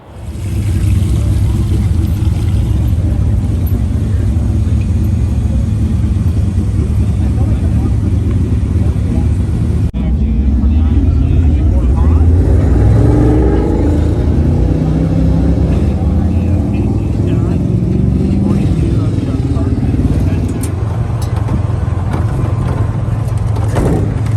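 Sprint car racing at Cottage Grove Speedway, with a loud, continuous roar of engines that swells in the middle as cars pass close, under steady announcer-style talk.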